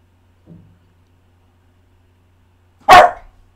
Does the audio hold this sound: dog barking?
yes